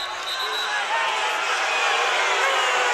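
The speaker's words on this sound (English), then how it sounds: "Crowd does not like that challenge." A crowd in a college wrestling arena at an Oklahoma State versus Iowa State dual meet reacts to a challenge with a sustained, swelling roar of disapproving noise that fills the space without letting up.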